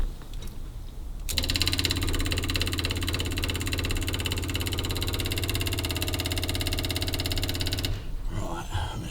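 1930 Packard 733 Victoria Coupe engine starting and running, a loud steady mechanical chugging with a rapid even beat that kicks in after a second and stops near the end, with no talk over it.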